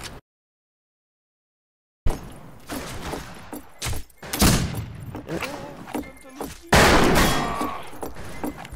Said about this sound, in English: I think that's a shotgun, bro.